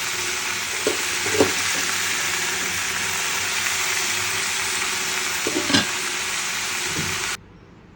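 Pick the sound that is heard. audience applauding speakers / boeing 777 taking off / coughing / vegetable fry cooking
vegetable fry cooking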